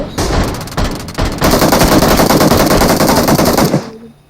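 Loud, close automatic gunfire in the mobile battle royale game PUBG Mobile: a few short bursts, then a long sustained stream of rapid shots that cuts off abruptly near the end.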